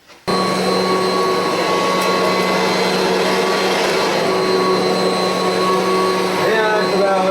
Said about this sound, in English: You got a rabbit that'll let you vacuum this close to her?